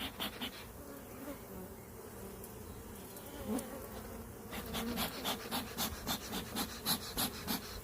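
A dense, steady buzzing of many honey bees at an open hive fills the air close by, with a rhythmic pulsing flutter growing stronger toward the end.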